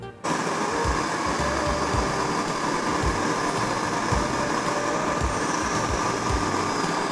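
An automatic sleeve sealer shrink wrapping machine running with a loud, steady broadband roar of heater blowers, overlaid by regular low thumps from the conveyor and sealing mechanism, starting abruptly after a brief quiet moment.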